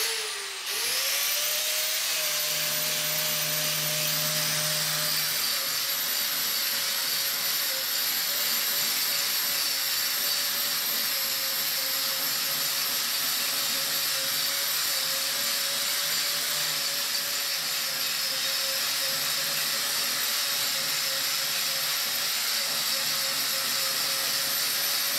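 A power tool fitted with a thick masonry grinding disc for cutting and sanding brick walls spins up and runs at a steady high whine throughout, loud and constant with a hissing edge and no talk.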